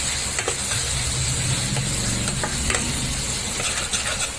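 Ground masala of raisin, melon seed and poppy seed, with cashew, sizzles and crackles steadily in a pan as it is stirred, a dense close hiss with occasional scraping and no talking.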